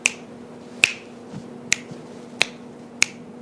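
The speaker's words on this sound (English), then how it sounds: "So let's snap your fingers there for a minute," Five crisp finger snaps ring out at a steady, unhurried pace, each one sharp, close and isolated over a faint room hum, with no speech.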